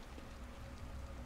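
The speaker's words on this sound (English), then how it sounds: "Pouring in rain" Heavy rain pours down outside a creepy big hospital in the horror game The Evil Within, a soft, steady hiss of drops at low volume with no voices.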